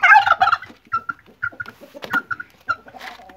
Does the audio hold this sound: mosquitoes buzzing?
no